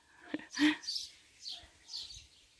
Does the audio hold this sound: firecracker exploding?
no